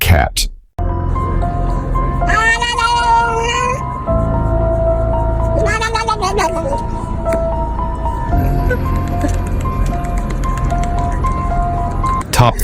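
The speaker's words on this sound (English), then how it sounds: "Black cat." A black cat meows and caterwauls in drawn-out, wavering cries, several loud close calls separated by pauses over a steady background hum.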